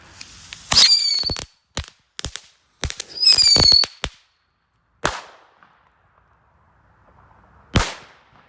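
Korsar 4 firecrackers go off outdoors, with repeated sharp whistling screeches and a run of loud cracking bangs, followed by pauses and two more isolated blasts, one of them near and heavy.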